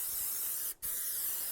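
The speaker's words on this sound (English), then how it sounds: "So I'll just spray it really quickly. I just have my non-stick here." Non-stick cooking spray hisses steadily onto a cake pan for chocolate, peanut butter and caramel cake, a close, continuous spray with one brief break midway.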